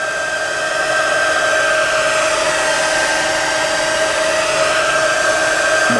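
A hot air heat tool blowing onto the plastic frame of a self-balancing wheel scooter to reshape it, a loud, steady whooshing roar with a faint whine, running continuously the whole time with no talking.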